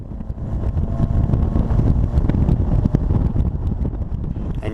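Bugeye Sprite, right-hand drive, engine running at speed while driving, a dense continuous low drone mixed with heavy wind buffeting, loud and steady with no talking.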